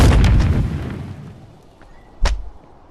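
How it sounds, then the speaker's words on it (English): A shotgun fires in the Animal Company video game: a loud, close boom that decays over about a second, then a second sharp, shorter blast follows moments later. "There's a shotgun."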